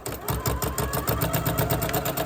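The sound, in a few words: sewing machine stitching a quilt binding strip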